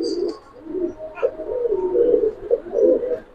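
Domestic blue-eyed pigeons at a pigeon farm coo in a steady, low, rolling stream, close by and fairly loud, with a brief higher note partway through and no talk over them.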